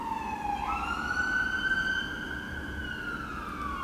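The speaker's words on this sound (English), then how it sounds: "that's the ambulance" An ambulance siren outside, wailing as it rises and sweeps in pitch, moderately loud over a low traffic rumble.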